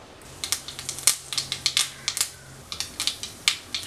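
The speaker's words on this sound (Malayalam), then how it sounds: "കടുക് പൊട്ടി വന്നിട്ടുണ്ട്." Mustard seeds pop and crackle in hot oil in a pan, giving a rapid run of sharp, irregular little snaps at close range with no voices.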